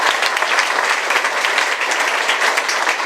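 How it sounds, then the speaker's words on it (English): Audience applause at a hotel announcement event at Syracuse Inner Harbor, a steady, dense wash of many hands clapping at even loudness throughout, with no voices standing out. "Let's give him a round of applause."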